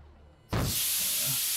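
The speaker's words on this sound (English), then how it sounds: "A jet of hot, steaming water erupts and burns the creature." Scalding, steaming water jets from a valve in a horror visual novel game, arriving as a sudden loud hiss after near-silence and holding steady as a continuous spray.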